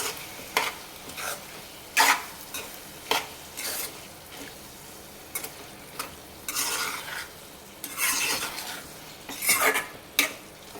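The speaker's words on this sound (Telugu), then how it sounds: "ఇంకా కొత్తిమీర వేసాం కదా, మంచిగా కలుపుకుందాం ఒకసారి." Bottle gourd curry with coriander is stirred in a pan on the stove, with repeated close scraping strokes of a utensil against the metal over a soft sizzle.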